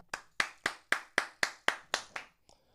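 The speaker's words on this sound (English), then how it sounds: "Let me clap now." Eight sharp hand claps in a steady, even rhythm, close and loud, with a faint rustle at the end.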